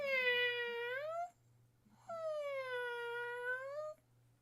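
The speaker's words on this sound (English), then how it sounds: "I will take people who have never heard a kitty meow." A cat gives two long, drawn-out meows, each over a second long, separated by a short pause, clear and fairly close over a faint low hum.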